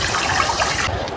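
Potatoes are mashed by hand in a container of water, giving a continuous close sloshing and squelching of liquid that cuts off sharply near the end.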